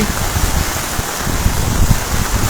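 Heavy monsoon rain and rushing water near the Salal Dam on the Chenab River, a loud, dense, continuous roar of downpour and flowing water with no break and no voices.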